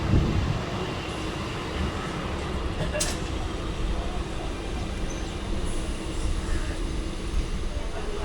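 A Howrah–Haldia fast local train pulls out of a station, its steady broadband rumble and rattle running continuously and fairly loud throughout, with a brief sharp high squeal near the start.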